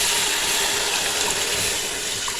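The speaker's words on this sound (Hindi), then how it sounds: "अब मैं इसमें डालूँगी 2 लीटर पानी।" Water from a one-litre jug pours steadily into a cooking pot for mutton paya, a continuous, fairly loud splashing rush with no break.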